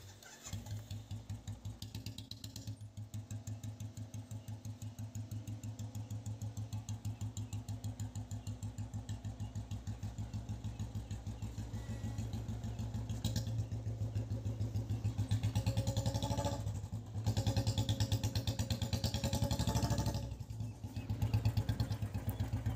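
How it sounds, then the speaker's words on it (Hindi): A motorcycle engine thrums steadily with a rapid low pulse while riding from Haldwani toward Sitarganj, getting a little louder and rougher toward the end, with faint clatter and wind alongside and no talk. "अभी हम जा रहे हैं बाइक से, ये मुझे मेरे घर छोड़ने जा रहा है।"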